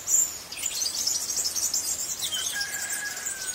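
A European robin sings in a tree, high, bright trills and chirps continuing overhead, clear and somewhat near, with a faint steady hum beneath and no talking.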